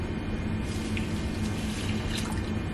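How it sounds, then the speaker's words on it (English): Tap water runs steadily into an oatmeal bag, a continuous close splashing gush of moderate loudness lasting the whole short stretch. "if you fill up this bag where the oatmeal comes in, it's the perfect amount of liquid, and I do mine with water"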